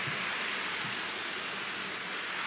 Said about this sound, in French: Avec le bruit de la cascade, tout ça, c'est vraiment hyper joli.